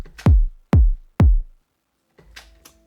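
Three punchy kick drum hits from a sample placed in an Ableton beat, evenly spaced with deep booming lows, followed by a softer tail of faint, brief sounds after a short gap.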